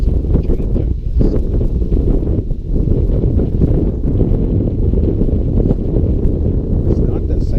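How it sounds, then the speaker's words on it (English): Steady wind gusts across an open boat deck, buffeting the microphone with a loud, continuous low roar that never lets up. "the wind's coming up"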